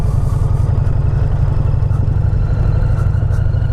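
The V-twin engine of a 2020 Indian Challenger motorcycle thrums loudly and steadily while riding, a close, deep pulsing rumble with a constant throb and no pauses.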